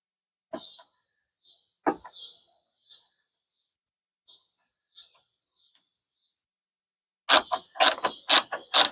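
A T-handle socket wrench ratchets while working on a Jeep Patriot's front turn signal: a few scattered light clicks, then a quick close run of sharp ratcheting clicks at the end.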